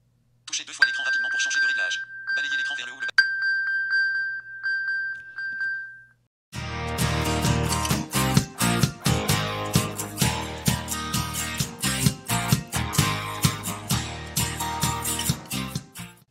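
An iPhone ringing after being triggered from an Apple Watch, starting as a sustained electronic chime with beeps, then giving way to a loud rhythmic ringtone melody that runs steadily to the end.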